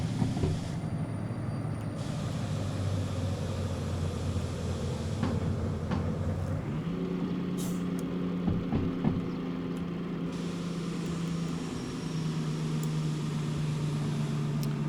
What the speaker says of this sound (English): We've just actually hit that car now, so hopefully we haven't done any damage